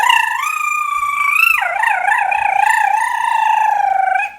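A voice imitates a whistling Puerto Rican firecracker with one continuous high, wavering whistle. It rises, dips sharply partway through, then warbles on for about four seconds, close and loud.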